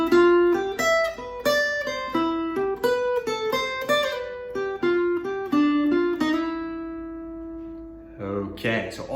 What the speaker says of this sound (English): demonstrating our lick of the week now at a very slow tempo